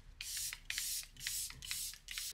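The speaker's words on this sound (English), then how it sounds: "give myself a mist. Charlotte Tilbury Airbrush Flawless Setting Spray." Five quick bursts of Charlotte Tilbury Airbrush Flawless Setting Spray misting close by, each a short breathy hiss with brief gaps between, fairly soft and with no talk.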